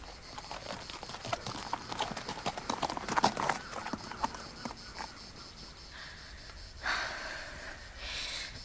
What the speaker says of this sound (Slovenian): Šele drugi dan pod noč so se vrnili na trudnih in spenjenih konjih, brez Petra in brez makalonce.